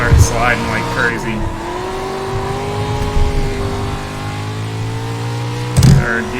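A car engine drones and shifts pitch in a drift and race simulator game, a sustained steady whine that bends as the car slides through a turn, loud and close, with short bumps at the start and near the end.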